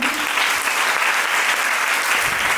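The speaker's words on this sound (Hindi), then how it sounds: "आपके लिए जोरदार तालियां" At a Kargil Diwas event a crowd gives loud, sustained applause, a dense continuous roar of clapping with no talking over it.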